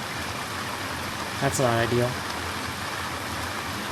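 Steady rain hisses evenly throughout in the post-apocalyptic survival game Neo Scavenger, with someone briefly speaking over it partway through.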